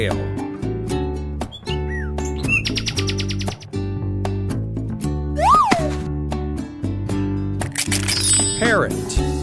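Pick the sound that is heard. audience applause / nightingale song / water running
nightingale song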